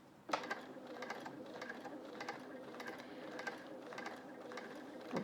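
A domestic sewing machine quilting feather stitches runs in fast, even mechanical bursts, its rhythmic whirring and clicking pulses repeating steadily at close range, fairly quiet overall.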